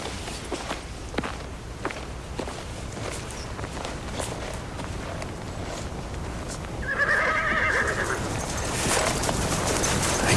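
A horse's hooves thud and shuffle irregularly close by, then the horse lets out a loud, drawn-out neigh that rises and trembles near the end.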